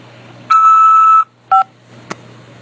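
An electronic beep tone on a corrections-facility prison phone call: a steady held tone of just under a second, then a shorter second beep and a faint click, over a low line hum.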